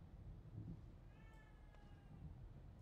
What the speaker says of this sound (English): Why does that cat sound like it's in the room with me?